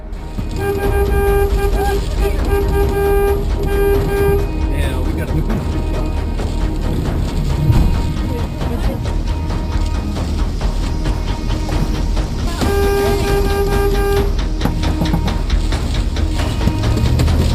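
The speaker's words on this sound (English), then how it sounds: "The tour leader immediately honks his horn to get the group back in the van." A van horn honks in two sustained blasts during a tornado chase tour, one at the start and another near the end, heard over rushing wind and vehicle noise while people shout urgently to move.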